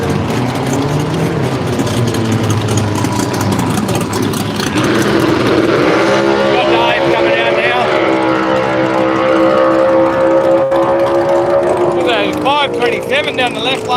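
Drag race cars, including a Subaru, accelerating hard down the strip at a radial drag event at Willowbank, Australia: a loud, rising engine roar with climbing pitch under continuous talk from a commentator.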